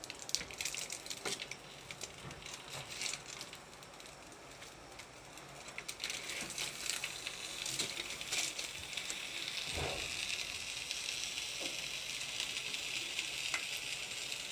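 Milkfish (bangus) sizzling on a hot grill pan, a steady crackling hiss with scattered sharp pops, fairly close and continuous throughout, no talking.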